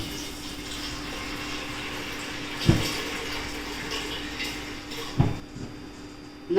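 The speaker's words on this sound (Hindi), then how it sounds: "अब डालेंगे इसमें 3 कप पानी" Three cups of water poured into a pressure cooker pot of dal for cooking, a continuous splashing pour with a couple of sharper knocks and clatters, no voices.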